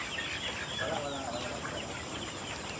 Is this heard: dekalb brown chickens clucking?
yes